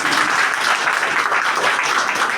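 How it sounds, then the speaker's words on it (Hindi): An audience at a gathering bursts into vigorous applause, with dense, steady clapping from many hands that stays loud from start to finish. "इसके लिए हम जोरदार तालियां दें"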